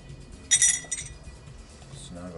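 Small metal spoke nipples from a 1959 Sears Spaceliner bicycle wheel drop into a degreaser tank, giving a bright burst of clinking and jingling metal that quickly settles, followed by faint handling noise.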